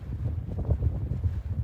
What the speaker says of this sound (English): Oh, she's windy.